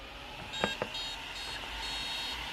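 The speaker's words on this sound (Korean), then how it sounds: "삐삐삐 세 번 났죠?" A series of electronic beeps from a Hobbyking 150A electronic speed controller during neutral setup sounds in short steady segments with a couple of clicks, quiet against a background hiss.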